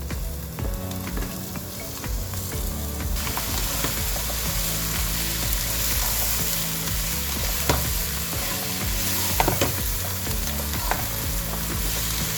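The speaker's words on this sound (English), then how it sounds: "I'm going to fry them for about 10 minutes." Pork sausages fry in a pan for a sausage and bean casserole, a steady close sizzle with occasional stirring scrapes and clinks running the whole time, no talking.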